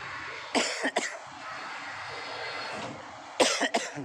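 Two pairs of sharp coughs, close and loud, over a steady background hum or engine drone, at the Merak–Bakauheni ferry port in extreme weather.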